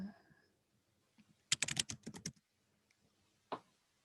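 Quick burst of keystrokes on a computer keyboard, about eight close clicks in a row followed by a single isolated tap after a pause, quiet and near in an otherwise still room.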